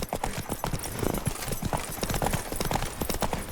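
Horse hooves clip-clop at a brisk, regular trot in The Witcher 3 video game, close and continuous with no other sounds.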